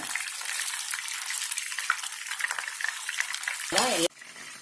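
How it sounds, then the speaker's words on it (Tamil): Chicken leg pieces sizzle steadily in hot oil in a pan as they are turned, a dense close-up frying hiss with stirring scrapes, ending with a brief tonal whine before quieter sizzling resumes. "நீங்க அடிக்கடி இந்த மாதிரி பரட்டி பரட்டி விட்டுக்கோங்க. அப்பதான் எல்லா பக்கமும் நல்லா வேகும்."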